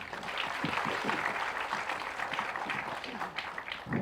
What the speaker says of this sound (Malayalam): ആ ധൈര്യത്തിന് എനിക്ക് വേണ്ടി നിങ്ങൾ വലിയൊരു കയ്യടി കൊടുക്കണം